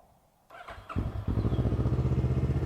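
A Kawasaki ER6N motorcycle engine cranks and fires up, settling into a steady, close, loud pulsing idle with no talking over it.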